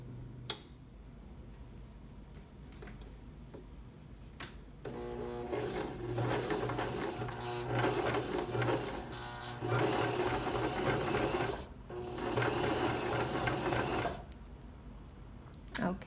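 Baby Lock Zest sewing machine stitching a blind hem on knitted fabric, its rapid mechanical clatter coming in several close bursts separated by short pauses, quiet and near with no talking.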